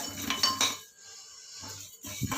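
Metal spoon scraping and clinking in a frying pan while frying eggplant, a few quick irregular clatters close by, then a short pause before more stirring.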